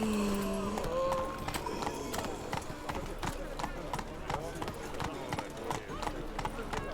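Roach, a horse in The Witcher 3, gallops with steady rhythmic hoofbeats, close and fairly loud, under game music and a voice talking over it.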